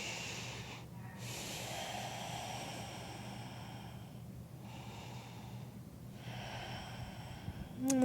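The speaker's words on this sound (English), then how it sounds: "take a few deep breaths here" Slow, deep breathing in a yoga forward fold, long airy inhales and exhales with brief pauses between them, close and soft over a steady low background hum, and no speech.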